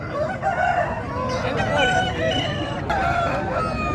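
An Aseel rooster crows at a busy Saturday fowl market, its calls rising over a dense, steady din of crowd noise and other birds.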